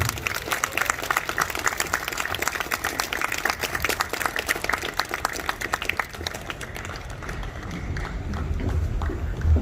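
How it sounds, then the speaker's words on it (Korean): Audience applause welcoming a tenor onto a concert stage before an aria, a dense, steady wash of many hands clapping throughout, fairly loud and sustained, with a slight swell near the end. "여러분, 큰 박수를 부탁드리겠습니다"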